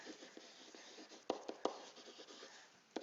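Pen or pencil writing on paper in a classroom, a steady faint scratching with a few sharper taps and strokes, close and quiet with no talking.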